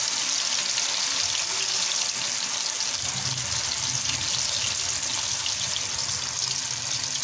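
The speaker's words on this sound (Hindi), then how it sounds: "तकरीबन 5 मिनट जो है हम इसको तेज़ जो है आंच पे इसको फ्राई करेंगे" Fish pieces frying over a high flame in hot oil, a loud, continuous crackling sizzle close up, steady throughout with no talking.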